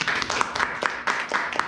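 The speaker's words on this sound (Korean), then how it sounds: "박수 한번 쳐주시죠" Audience at a business presentation in Busan claps in a short burst, close and fairly loud, with uneven rhythmic surges of hands.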